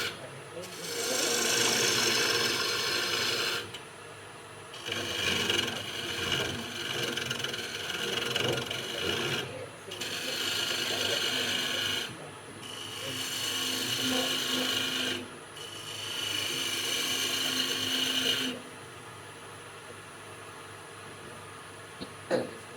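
A wood bowl spins on a lathe as a 65-degree bevel gouge cuts it, giving steady scraping, rasping passes of several seconds each, separated by short pauses, with a motor hum underneath.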